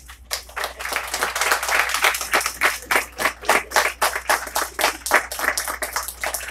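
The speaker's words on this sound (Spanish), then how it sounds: "Dele un fuerte aplauso a Dios." A church congregation claps and applauds together during a sermon, a dense, steady roll of many hands with individual claps pulsing through, fairly loud and sustained without talk.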